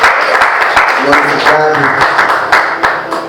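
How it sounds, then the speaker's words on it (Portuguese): A church congregation applauds at a Portuguese-language sermon, with a steady wash of clapping running throughout while a preacher's voice speaks loudly over it. "Você pode aplaudir mais uma vez por essa palavra."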